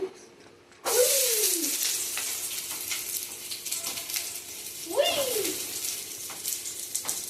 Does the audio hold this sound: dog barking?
no